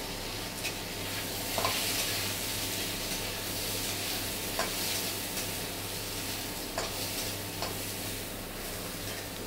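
Potatoes frying in a pan give off a steady, close sizzle, with light scraping and ticking from stirring at intervals throughout.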